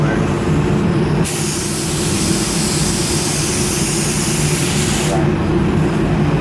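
A spray gun painting a peanut tank at low pressure gives a steady, loud hiss of air that runs through the whole stretch, with a brief spoken word.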